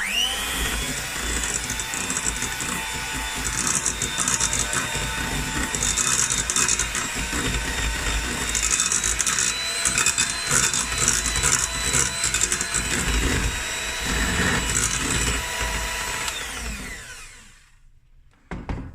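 An electric mixer churns butter biscuit dough with a loud, close, grinding motor whir and rattling beater clatter, steady for many seconds before winding down and stopping near the end.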